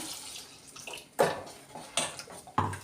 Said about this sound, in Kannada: ಈಗ ಇದಕ್ಕೆ ನೀರು ಸಹ ಹಾಕ್ತಾ ಹೋಗ್ತಾ ಇದ್ದೀನಿ